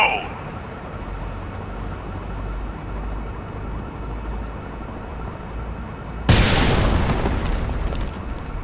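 A grenade blast in the game Rainbow Six Vegas, set in Las Vegas, Nevada: a sudden loud, broadband burst that cuts in late and decays with a rough rumbling tail over a steady background bed.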